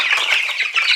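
Young meat-bird chicks, about the size of week-old birds, cheep and cluck in a continuous busy chorus, close and loud.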